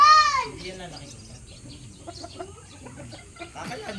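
Chickens cluck and chatter in short, scattered calls, with a rooster-like crow at the start and quiet background noise between.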